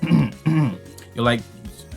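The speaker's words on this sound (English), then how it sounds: "you begin to try to clear your throat too often" A few throaty clearing sounds, two quick rough rasps followed by a longer one, close to the listener.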